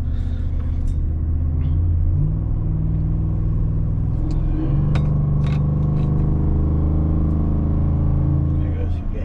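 A 2023 Ford F-150 with the 5.0 engine pulling away from a stop while towing a 7,000 lb travel trailer, its steady low rumble rising in pitch as it accelerates, heard from inside the cab beneath ongoing conversation.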